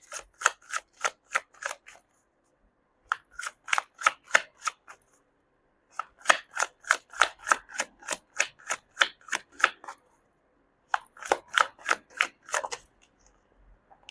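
A deck of tarot cards is shuffled in four bursts of rapid, crisp riffling clicks, each run lasting a couple of seconds with short pauses between.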